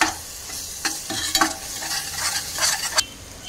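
Ginger garlic paste fries in a pan as a moderate steady sizzle, broken by a few spatula scrapes and stirring bursts, close by with no speech.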